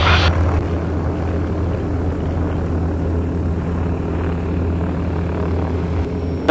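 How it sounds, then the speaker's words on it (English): Steady, loud propeller drone from a LongEZ airplane engine pulling through a big aerobatic loop, a continuous close engine roar that holds evenly throughout with no talk. "Doing a nice big old loop."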